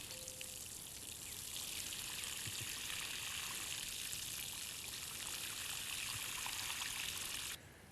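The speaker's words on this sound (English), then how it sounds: "Then I give them some water." Water trickles and splashes steadily onto soil in a dug vegetable garden furrow close by, a soft continuous pour that stops abruptly near the end.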